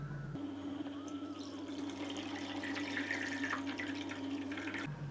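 Liquid poured steadily into a container during homemade butter making, a continuous watery splashing stream that starts abruptly, runs close and fairly loud for several seconds, then stops.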